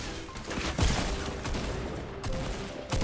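Video game gunfire from a Fortnite match, a burst of rapid shots at moderate distance with a few louder cracks, heard alone without talk.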